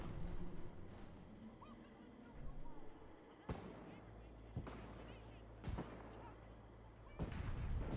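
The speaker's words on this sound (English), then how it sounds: "Mostly it's just this, like, kind of crappy firework" Fireworks going off at the finale of the Nuka World add-on for the Fallout 4 video game: four sharp, booming bursts spaced about a second apart, each followed by a crackling tail, over a quiet low background.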